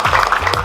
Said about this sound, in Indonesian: Mantap, tepuk tangan dulu.